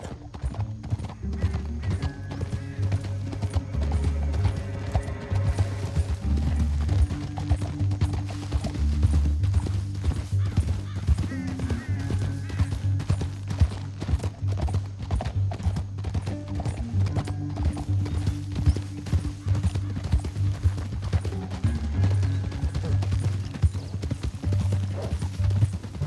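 Horse hooves clip-clop steadily at a gallop in the Red Dead Redemption 2 video game, a continuous close rhythm over low ambient game sound with occasional whinnies.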